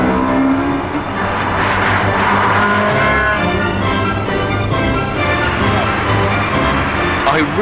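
Ferrari 360 Modena V8 driven hard on a race track, its engine roaring loud and steady throughout with layered harmonics and no clear gaps.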